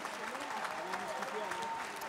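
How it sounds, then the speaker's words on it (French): Audience applauding contestants at a live cooking competition, a dense wash of clapping mixed with crowd noise and an overlapping voice, moderately distant and steady. "on les applaudit plus fort que ça"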